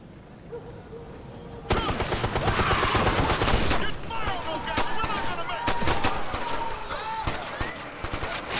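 Dense gunfire erupts in a firefight in the video game Ghost Recon Future Soldier, rapid automatic bursts and single shots stacking into a loud, continuous barrage while voices shout underneath.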